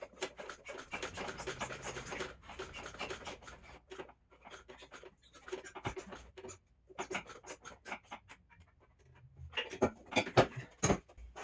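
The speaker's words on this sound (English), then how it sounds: "So I should be able to fix this just by rotating my distributor to where it should be." Scraping and rubbing of a Nissan 240SX distributor being turned by hand, with irregular rasping bursts and brief pauses, close and moderately loud throughout.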